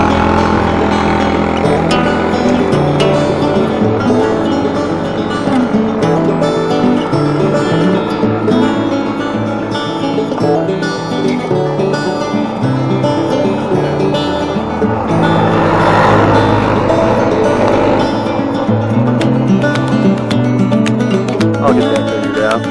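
A mini buggy go-kart engine with a poorly adjusted carburetor drones steadily and loudly while climbing a hill, held back from full throttle, with a continuous buzzing, uneven tone throughout.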